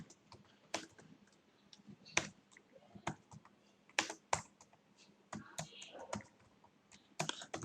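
Typing on a computer keyboard, with irregular bursts of sharp, close clicks broken by short pauses and no talking.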